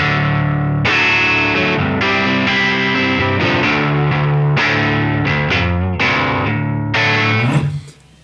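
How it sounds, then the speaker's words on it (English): Electric guitar played through a Line 6 HX Stomp's Poly Capo transposing effect, a steady run of sustained, slightly distorted chords that shifts pitch partway through and rings loud until a brief fade at the end. "I loaded up an effect called the Poly Capo. And so what this does is it like takes my guitar signal and transposes it up or down."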